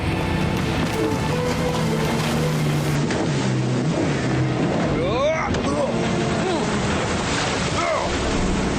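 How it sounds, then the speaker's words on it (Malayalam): In an animated cartoon chase, a steady motorboat engine drones throughout, with excited voices and animated sound effects layered over the rumble. "അവന്മാരെ മോട്ടോർ ബോട്ടിലുണ്ട്."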